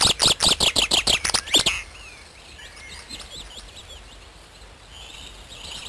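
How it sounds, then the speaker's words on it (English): Chaffinches call and sing in oak woodland. A quick run of about ten loud, clear chirps comes first, then softer scattered calls over quiet outdoor ambience. "Female chaffinches are still busy building their nests, whilst the male keeps an eye on the territory."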